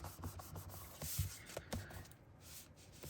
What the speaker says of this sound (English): let's give that a good back rub